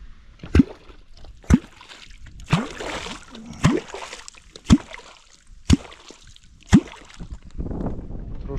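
Kwok lure striking the water from a boat while catfish fishing on the Dniester, a series of about seven sharp, hollow plops spaced roughly a second apart, close and distinct over light lapping water and wind.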